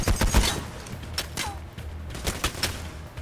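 Rapid bursts of gunfire in the video game Payday The Heist, sharp cracks and automatic volleys clustered near the start and scattered through the rest, fairly quiet overall.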